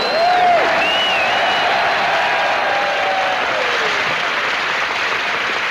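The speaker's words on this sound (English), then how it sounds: "That's not my bow applause. That's the welcome for Joey Heatherton." Troops applauding at a 1966 USO Christmas show in Cu Chi, Vietnam, a loud, dense roar of clapping from a large outdoor crowd, sustained throughout, with whistles and a few shouts rising above it.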